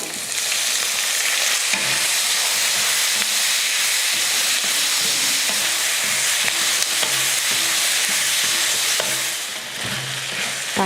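Onions, curry leaves and tomatoes sautéing in a pan for a chutney: a steady, loud broadband sizzle and hiss runs the whole clip, with occasional stirring scrapes and no talk.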